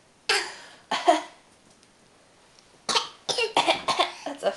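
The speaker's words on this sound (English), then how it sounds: "That's a fake cough." A few short, breathy fake coughs from a child, one pair near the start and a quick burst of several later, with quiet gaps between.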